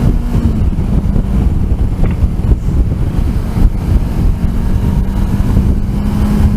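Kawasaki Versys 300 motorcycle engine revving high, a steady buzzy drone heard from the rider's position with heavy wind rush over it throughout, no talk.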